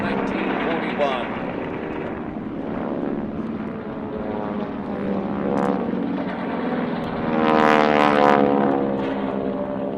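Propeller warplanes of the Tora! Tora! Tora! group roar over an airshow, a sustained droning buzz that swells as aircraft pass, with an announcer speaking over it.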